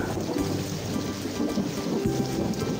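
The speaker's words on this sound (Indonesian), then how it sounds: "Hujan deras turut mengiringi perjalanan mereka." Heavy rain pouring steadily as a sound effect in an illustrated story, a dense continuous hiss with low rumbling underneath, fairly loud and without talk.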